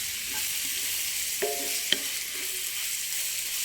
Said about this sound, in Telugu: బాగా వేగిపోకూడదు ఉల్లిపాయ, కొంచెం జస్ట్ మగ్గితే చాలన్నమాట.